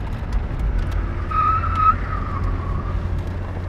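A 1989 Citroën BX GTi 1.6 drives around a roundabout, its engine a steady low rumble from inside the car, with a brief tire squeal or whine partway through.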